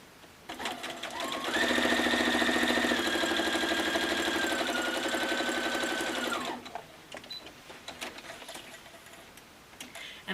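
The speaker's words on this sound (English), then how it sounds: "I'm going to sew." A Baby Lock Jubilant sewing machine stitching a quilt block, its steady, close mechanical hum running continuously for about five seconds, with softer handling clicks before and after.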